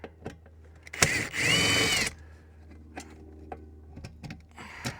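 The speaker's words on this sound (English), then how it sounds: "Now I gotta get all the screws out of here. Good thing I got my extension on here." A power drill fitted with an extension bit backs screws out during an off-grid solar build, with one loud whirring burst of about a second amid quieter handling clicks and taps.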